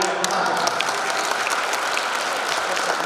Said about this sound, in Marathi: मी सगळ्यांना विनंती करतो की एका आपला नवनाथ दनवे म्हणजे लाडाचा नावाचा गोट्यासाठी एका टाळ्या